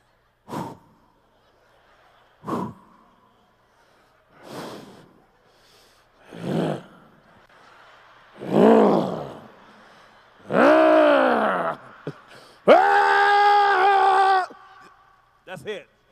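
A stand-up comedian, performing at the Kings of Comedy show in San Diego, imitates heavy breathing with his voice: a series of short huffs and grunts that grow into longer, louder groaning breaths, each separated by brief pauses.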